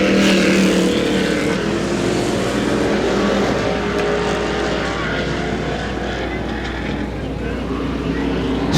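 Street stock race cars roaring past at Butler Motor Speedway, a loud pack of engines droning steadily and fading slightly over several seconds, with a voice talking faintly underneath.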